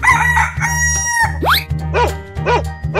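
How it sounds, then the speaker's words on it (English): A rooster crows once over a steady rhythmic music backing, with chirpy synth notes following. "Chicken."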